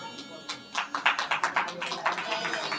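An audience at a Shiv Mahapuran katha religious discourse claps hands in a steady rhythmic beat of roughly a dozen claps, moderately close, with a voice talking over it.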